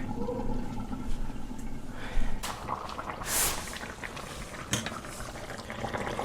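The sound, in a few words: pot of curry bubbling while cooking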